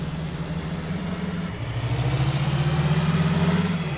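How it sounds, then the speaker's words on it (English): A tractor engine in Farming Simulator 19 drones at a low, steady pitch, then shifts slightly and revs up, running loud and close with no voices over it. "Listen to this tractor. Oh my God, this tractor's sweet."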